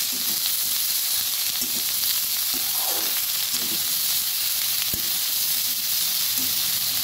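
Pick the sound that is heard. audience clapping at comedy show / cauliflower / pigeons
cauliflower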